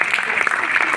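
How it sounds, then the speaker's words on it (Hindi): A burst of audience clapping at a poetry recitation, brief and fairly loud, mixed with a voice speaking over it. "वो एक बार जोरदार ताली आपको दीजिए"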